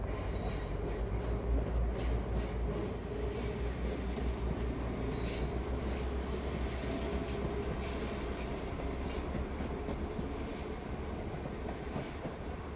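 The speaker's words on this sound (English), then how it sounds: "it turns out we actually have 2 more departures to leave this station before our train comes through" A train pulls out of a station in Northern Ireland, its steady low rumble and wheel noise filling the scene at a constant, fairly loud level with faint squeals and clatter throughout.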